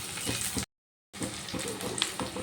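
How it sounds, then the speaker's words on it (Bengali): Chopped tomato fries with onions in a pan, a soft crackling sizzle with stirring scrapes, broken by a brief total silence before the frying resumes. "যে টমেটোটা পেঁয়াজের সাথে ভালো করে ভেজে নেব, ভেজে নিচ্ছি"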